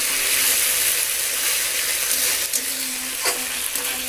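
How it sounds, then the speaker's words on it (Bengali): Ginger paste sizzles and fries in hot oil, a steady crackling hiss with a few stirring scrapes toward the end, close and alone without talk. "এইবার তেলের মধ্যে দিয়ে দেবো আদা বাটা, আদাটা একটু ভেজে ভেজে নেবো"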